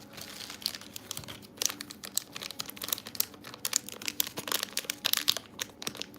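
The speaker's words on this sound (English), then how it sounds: "I might have to find my scissors to open my package here I got in the mail" A mail package being opened, with dense crinkling and crumpling of wrapping, irregular rustles and sharp tearing bursts close to the microphone, no talking.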